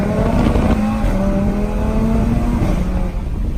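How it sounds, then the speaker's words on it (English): A Lamborghini race car engine revving hard and loud, a sustained snarling tone that rises in pitch and drops back with gear changes, close and continuous with no talk. "It sounds like a Lamborghini."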